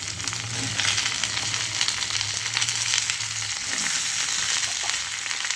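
Taro stolons frying in hot oil with garlic and chili, a steady close sizzle with a low bubbling hum throughout, no voices.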